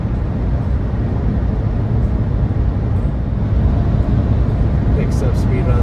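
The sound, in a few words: 2025 Fiat 500e electric car accelerating on highway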